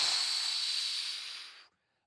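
A forceful exhale during a box breathing exercise done lying with heels pressed into a bench, a loud, breathy hiss held steadily close to the microphone before cutting off sharply.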